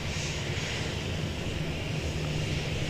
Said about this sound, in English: We've got Philippine Airways Flight 468 coming in from Manila, an Airbus A330-300